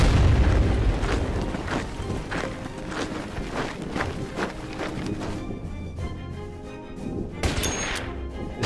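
Enemy gunfire and explosions in Order of Battle Pacific, a World War II strategy game, as repeated booming shots and thuds thump along steadily at mid-distance, thinning out toward the end with a brief brighter burst.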